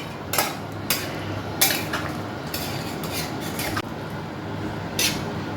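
A spoon scrapes and clinks around a pot of chicken curry with hot water added, giving repeated sharp metallic knocks over a steady bubbling, wet background.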